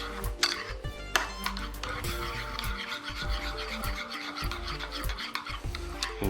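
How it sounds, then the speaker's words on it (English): A spoon stirs minced garlic into a mayonnaise and olive oil sauce, giving steady close scraping and clinking taps in an irregular rhythm, with no voices. "We're just gonna kind of stir that up real good"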